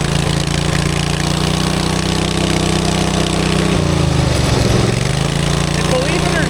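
A Vanguard drift quad's engine runs loud and steady, with a droning tone that dips briefly partway through and then recovers, alone with no talk.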